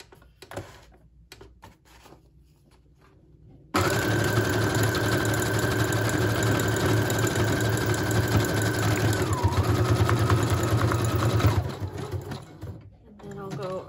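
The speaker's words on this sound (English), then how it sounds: "I'm going to do a zigzag stitch." A sewing machine runs a zigzag stitch with red thread, humming and clattering steadily up close for about eight seconds, with faint talk and handling noises before and after.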